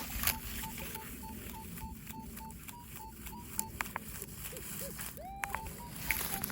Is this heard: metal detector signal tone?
yes